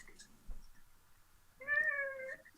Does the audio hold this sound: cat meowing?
yes